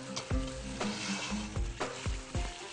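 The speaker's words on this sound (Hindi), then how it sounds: "थोड़ा सा चम्मच चलाएं" Curry sizzling in a kadai as a spoon stirs it, with a constant close fry hiss broken by repeated scraping knocks of the spoon against the pan.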